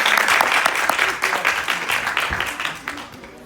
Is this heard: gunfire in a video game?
no